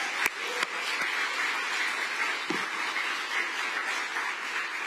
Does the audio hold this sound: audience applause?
yes